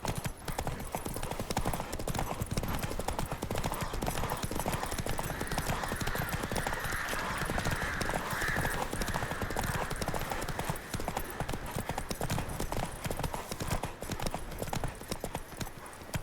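Horse hooves galloping in The Witcher 3, a continuous rapid clip-clop rhythm that stays loud and steady throughout, with faint ambient game sound beneath.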